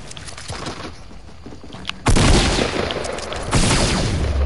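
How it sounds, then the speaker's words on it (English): Heavy sniper rifle shots in a shooter video game, two sharp, loud blasts about a second and a half apart, each a sudden crack with a lingering rumble, over quieter game ambience. "That was a heavy sniper."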